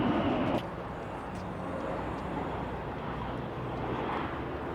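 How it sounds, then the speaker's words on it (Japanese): A fixed-wing airplane passes overhead in San Diego, a steady, broad engine rumble that stays moderately loud and fairly distant throughout against outdoor ambience. "飛行機の音がする"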